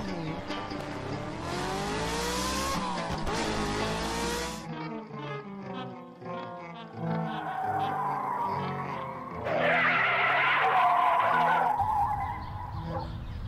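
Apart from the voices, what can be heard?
car engine sputtering and stalling, out of fuel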